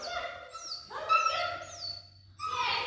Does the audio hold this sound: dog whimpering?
yes